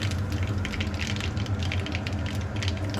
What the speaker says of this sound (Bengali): এখন এর মধ্যে ফোড়ন দিচ্ছি কালো সর্ষে